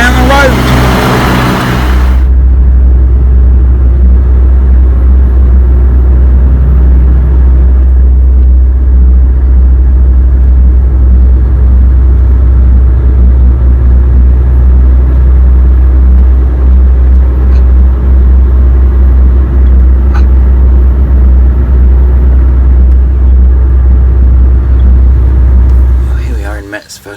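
A truck pulls away from a stop and drives along a road in Germany or Austria, producing a loud, steady, low engine rumble heard from inside the cab that continues for nearly half a minute.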